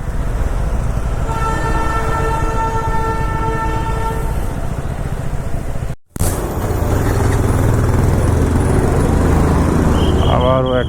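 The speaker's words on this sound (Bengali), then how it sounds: "আবারও একটা টয় ট্রেন যাচ্ছে" A Darjeeling toy train passes close by, its horn sounding a long steady tone over the rumble and clatter of the cars, then a brief cut and continued rolling noise, with a higher whistle near the end.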